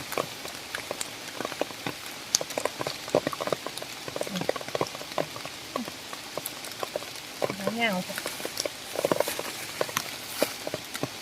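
Heavy rain patters steadily on the ground and leaves where termite mushrooms are being gathered, a dense crackling hiss of drops throughout, with a short bird or frog call in the middle.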